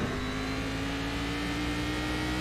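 Race car engine in a VR sim racing game at Barber Motorsport, a steady droning whine held at a constant pitch throughout, loud and continuous with no voices.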